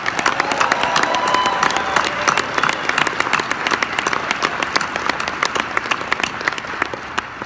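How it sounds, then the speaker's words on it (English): Sustained audience applause from a crowd at a Harley officers training event, dense steady clapping that holds for several seconds without a break. "How about a round of applause?"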